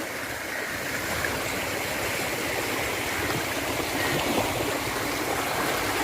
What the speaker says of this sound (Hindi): इस साइड से पानी निकल के और आगे की तरफ जा रहा है जी